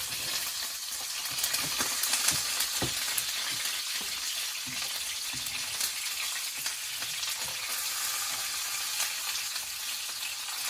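Steak searing in oil in a hot pan gives a steady, close crackling sizzle with frequent small pops and spits throughout, no voices over it.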